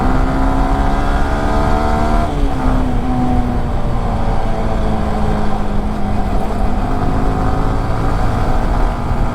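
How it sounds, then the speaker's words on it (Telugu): A Yamaha R15 V3 motorcycle exhaust drones loud and close while riding, its engine note dropping at a gear shift and then holding a steady pitch, with no talking. "కానీ దీన్ని నడుపుతున్నప్పుడే దీని ఎగ్జాస్ట్ సౌండ్ బాగుంటుంది."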